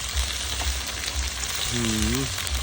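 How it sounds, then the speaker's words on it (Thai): Field crabs stir-fried with herbs in a hot pan give off a steady, close frying sizzle, with a brief voice heard near the end. "อันนี้เป็นปูนา คั่ว สมุนไพรนะคะ"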